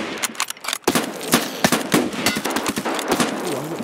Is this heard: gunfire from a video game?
yes